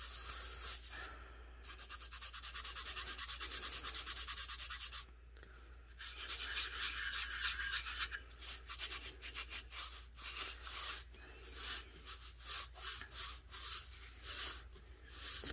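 A Dollar Tree rub-on transfer, with purple in the design, is burnished onto a tumbler with steady close rubbing that turns into quicker back-and-forth strokes. Quiet and continuous.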